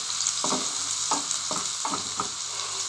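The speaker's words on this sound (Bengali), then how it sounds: "ভালো করে একটু ভেজে নেব, ব্রাউন কালার করে নেব যাতে পুড়ে না যায়।" Ingredients for a jute leaf and masoor dal dish fry in a pan until browning, a constant bright sizzle broken by five soft stirring scrapes spaced about half a second apart.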